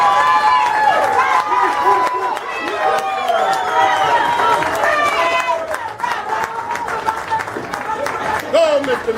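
A crowd at a public event about Newark schools applauds and cheers for a newly elected mayor, with scattered clapping, whoops and lively chatter mixed with voices throughout.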